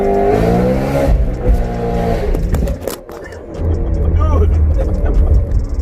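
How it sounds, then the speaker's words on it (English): A BMW E92 M3 on the move, its engine revving up and down in loud, rising and falling sweeps while people talk over it inside the car. "you'll get a little clip of my driving experience in this car probably right here"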